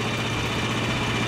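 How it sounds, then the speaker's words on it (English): A 14 horsepower engine runs on a Frontier OS23 sawmill cutting red oak, a brief steady low rumbling drone close by with no speech. "between the 14 horsepower engine and the"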